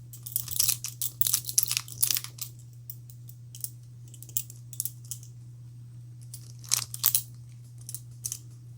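Scissors snipping off the spare cord of a handmade natural-fiber and cowrie shell bracelet, a run of quick close crisp cuts, a pause, then a few more near the end over a steady low hum.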